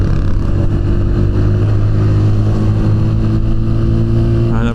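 A motorcycle rides along, its engine droning loud and steady at a constant pitch with heavy wind rumble throughout and no clear revving.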